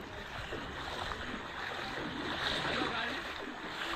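Flood water pours into a shop in Mansuka, Udaynarayanpur, making a steady, close, broadband rushing and gurgling wash that carries on without a break.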